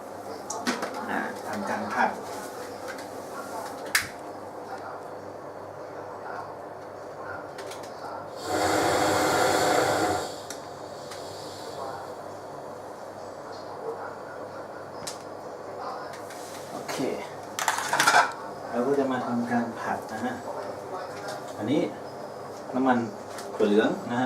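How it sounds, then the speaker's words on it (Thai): Stir-frying shrimp-paste rice in a pan at home, with a short, loud burst of sizzling that rises suddenly and cuts off, surrounded by someone talking steadily. "เราก็มาผัดนะครับ"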